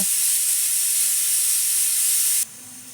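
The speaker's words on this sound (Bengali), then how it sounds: "দিয়ে আমি প্রেসার কুকারটা ঢেকে দিব। আমি চুলায় বসিয়ে দিব। আমি ৫টা সিটি দিব।" A pressure cooker on the stove, cooking dal with jute leaves, turmeric and salt, lets out a loud, steady jet of hissing steam that cuts off abruptly near the end, leaving a faint low hum.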